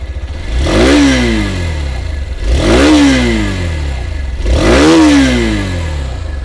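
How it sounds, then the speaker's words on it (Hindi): The exhaust of a Hero Xtreme 160 2V motorcycle sounds up close and loud as the throttle is blipped three times at a steady pace, each rev rising and falling back to a rumbling idle. "बाकी एग्जॉस्ट साउंड जो है दोस्तों, वो मैं आप लोगों को एक बार सुना दूं"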